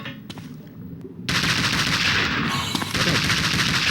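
Video game gunfire during level testing: a sudden loud burst of rapid automatic fire that rolls on continuously for a few seconds after a brief quieter lead-in, with no talking.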